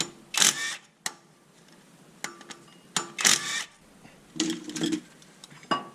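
A 9/16 hex flywheel bolt is worked loose on a 3.8L V6 in a fourth-generation Camaro during a clutch replacement, giving a series of sharp metallic ratchet clicks and clanks in uneven bursts, close by, with no speech.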